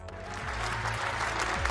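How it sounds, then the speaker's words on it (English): A crowd gives a standing ovation at a Greek political address on deporting illegal migrants: dense, steady clapping fills the whole stretch, close and sustained, with a faint low hum beneath it. "resulting in a standing ovation from the crowd"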